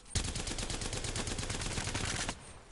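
Havoc gun in a video game firing one sustained fully automatic burst of evenly spaced rapid shots for about two seconds, close and loud, with no talk over it.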